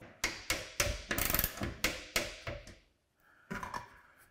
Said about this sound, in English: Put the screw in there, get it in a little bit by my using my hands, and then let's go ahead and wrench it